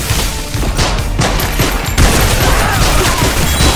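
Dense bursts of gunfire and grenade blasts from Yet Another Zombie Survivors rattle in rapid, overlapping succession, loud and constant with a heavier boom near the midpoint.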